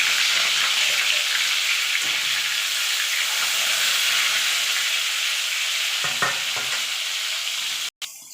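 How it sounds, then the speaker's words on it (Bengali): Katla fish pieces fry in hot oil, a loud continuous sizzle with a few spatula scrapes and a sharp knock near the end. "এবার মাছগুলোকে এপিট ওপিট করে আমি ভেজে নেব"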